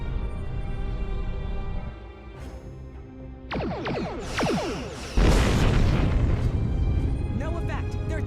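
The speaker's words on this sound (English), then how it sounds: "Target that ship, and fire all weapons!" Starship weapons fire and explosions in the Star Trek Online game, as a Klingon Empire fleet attacks an Undine planet killer: rapid zapping bursts build into a loud, sustained blast roar, with a commanding voice heard over the start.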